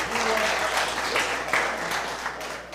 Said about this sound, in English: Give Max a round of applause